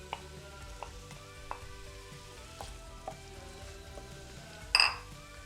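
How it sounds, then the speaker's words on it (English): Chopped onions hiss softly in hot oil, with a low sizzle under sparse utensil taps and a brief louder clatter of pan or cutlery near the end. "We're going to now add the onions and start to saute them."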